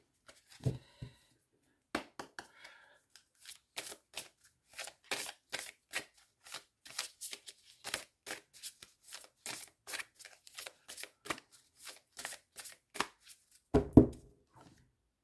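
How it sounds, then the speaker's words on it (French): Oracle cards are shuffled by hand in a string of quick, crisp riffling slaps and flicks. The sound is close and moderately quiet, with a louder clatter near the end, and no speech. "J'ai mélangé les cartes."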